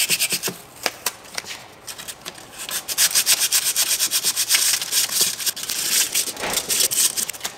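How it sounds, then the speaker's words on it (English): A wire brush scrubs crud off the rear brake parts of a 2011 Buick Enclave, making rapid, close, gritty back-and-forth rasping strokes in uneven bursts that grow louder and denser partway through. "Give her the old wire brush treatment."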